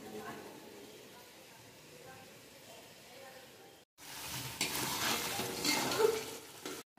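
Chicken pieces stirred and fried in a pan for chicken kosha: a soft background gives way to a loud, close, steady sizzle with scraping of the stirring utensil against the pan.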